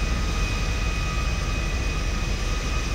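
Airplane engine in Grand Theft Auto V, a steady droning roar with a thin high tonal whine held throughout, fairly distant and even, with no talk over it.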